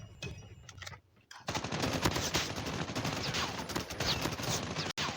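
Dense, continuous automatic gunfire from a Call of Duty Mobile match, loud and sustained for several seconds after a brief quiet gap near the start, with sharp bursts layered throughout.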